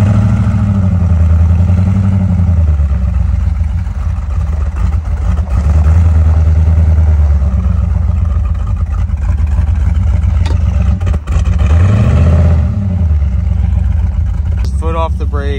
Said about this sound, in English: Engine seems healthy. Just idling nice.